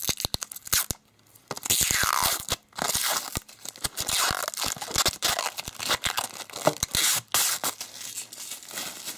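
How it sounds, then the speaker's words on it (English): Protective plastic film peeling off the board of an LED message alarm clock makes close, crisp crackling and tearing, with sharp snaps and crinkles in irregular bursts and brief pauses. "Let us peel off the plastic first."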